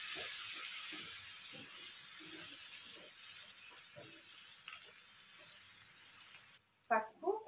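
Green chillies sizzle in hot oil for a Malabar spinach dal, a bright, even hiss under soft intermittent talking that stops abruptly near the end, followed by a brief clatter.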